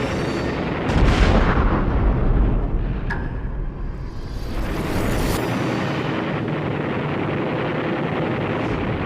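Heavy booming blasts and rumbling roll through a roaring, wind-buffeted din as bombs strike the destroyer USS Laffey, with a sharp crack near the middle before the noise settles into a sustained rumble.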